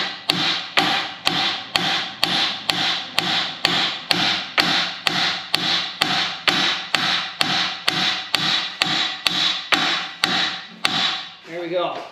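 A hammer pounds to press out the lower ball joint on a Chevy/GMC truck: a steady run of about twenty sharp, loud metallic smacks at an even rhythm, close up, with no talking.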